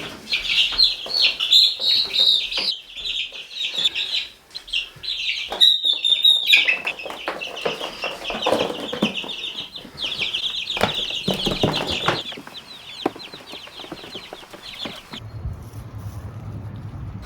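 Three-week-old baby chicks outside, a busy chorus of high peeping and cheeping close by with some flapping wings, the chirping dropping away near the end under a low hum.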